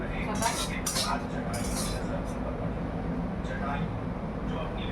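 Plates and dishes clink and clatter as they are handled, giving a few bright, close chinks in quick bursts over steady background noise.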